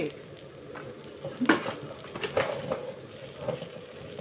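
A Thai omelette frying in a hot pan gives a steady crackling sizzle, with louder bursts of spatter and scraping near the middle of the clip; no one speaks.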